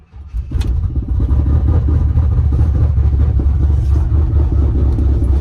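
Lowered single cab pickup truck on 24-inch wheels, 4/6 drop, rolling along with a steady loud low engine and road rumble heard from inside, continuous and close throughout.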